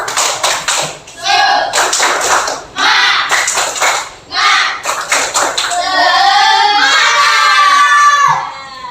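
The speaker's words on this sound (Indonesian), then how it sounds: "mari kita tepuk semangat dulu" A classroom of children in an Indonesian school claps a rhythmic spirit chant together, fast bursts of claps broken by short pauses, then ends in a sustained, louder stretch of clapping and cheering voices.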